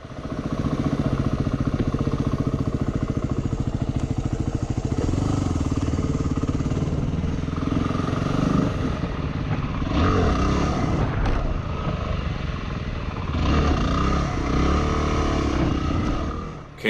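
A Yamaha WR250R dirt bike engine revving hard and continuously while its rider practises wheelies, a close, loud, rough roar that surges and dips in pitch with throttle changes throughout.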